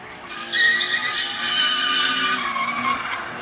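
A Subaru BRZ sports car spins its tires in a burnout while circling in a skatepark setting, a loud, sustained high-pitched tire squeal and skid over the revving engine, continuous for several seconds with no talk.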